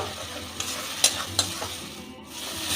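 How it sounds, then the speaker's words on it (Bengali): A paste of ginger, garlic and green chilli fries in oil in a pan, giving a steady close sizzle with a few stirring scrapes, and no voices. "মশলাটাকে ভালো করে একটু ভেজে নেব"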